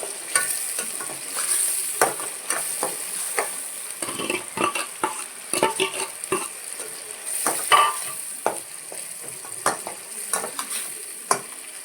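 Onion and tomato sauté in a pan for vatha kuzhambu, with a continuous sizzle under frequent, close spoon scrapes and taps against the pan in an uneven stirring rhythm.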